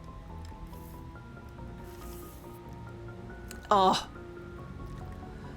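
A brief, loud slurp and rattle of ice in a Coca-Cola drunk through a metal straw stands out over a low, steady background hum, with a short spoken exclamation nearby.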